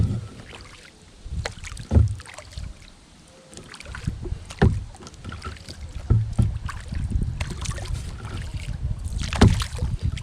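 Kayak paddling on Spring Lake during a maiden voyage: irregular paddle splashes and drips close by, with light wind buffeting the microphone.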